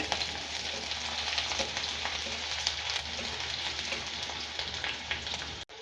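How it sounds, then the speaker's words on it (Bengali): Chopped onions fry in a pan with oil and are stirred, giving a steady close-up sizzle with soft scraping throughout before it cuts off abruptly. "পেঁয়াজ দিয়ে ভালো করে এটা নেড়ে নেব।"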